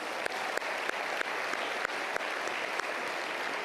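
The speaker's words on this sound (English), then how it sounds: "Let's give a round of applause for all of our winners and nominees this evening." An audience at a sports awards ceremony claps steadily for winners and nominees, a dense continuous wash of applause with a few louder individual claps.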